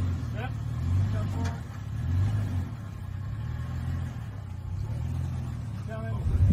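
A Toyota pickup truck crawling up a steep rocky mountain, its engine rumbling low and swelling in slow surges, while people talk over it nearby.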